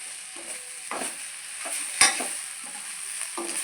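Greens sauté in a pan under a soft, steady sizzle, stirred with several distinct scraping strokes and one sharp clink of a utensil against the pan.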